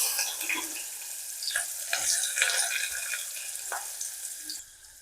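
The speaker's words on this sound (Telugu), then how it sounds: "కొంచెం కరివేపాకు ఇలా చెట్పట్టమంటాం చూసారా" Curry leaves crackle and sizzle as they hit hot oil in a pan for a Telugu-style broad bean fry, bursts of popping settling into a steady hiss before fading.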